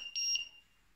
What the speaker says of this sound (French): le petit bip là veut dire que ben, on est arrivé au temps de la d'aspersion